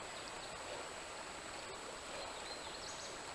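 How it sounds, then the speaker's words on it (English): Creek water flowing steadily along a hiking trail on the Butterfield Hiking Trail, a continuous close broadband rush with no talk. "This is one of two creeks we'll see on this trip."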